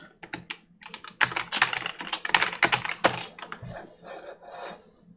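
Rapid typing on a computer keyboard, close and clear, with dense bursts of clicking keystrokes that thin out into lighter taps toward the end.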